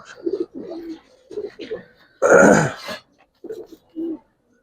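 Young Giribaz pigeons coo nearby in a string of soft, low, throaty coos, with one louder, rougher burst in the middle.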